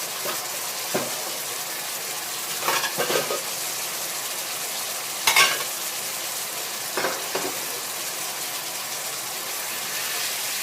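Blanched rice noodles for pad thai stir-fry in a hot wok with shrimp, a loud continuous sizzle broken by periodic scraping strokes of the spatula; no talking.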